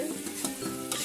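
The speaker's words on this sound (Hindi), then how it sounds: "जब तक ये रेडी नहीं हो जाता हम इसको अच्छे से फ्राई करते जाएंगे।" Green chillies and masala fry in a pan for aloo kofta, with a low sizzle and a few sharp spatula scrapes against the pan, close and moderately quiet over a faint steady hum.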